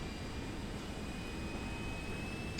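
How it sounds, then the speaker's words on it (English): Auxiliary power unit of an Airbus A321neo in Microsoft Flight Simulator 2024, a steady broadband whir and rush with a faint high tonal whine, constant and unchanging throughout. "You can hear it whirring,"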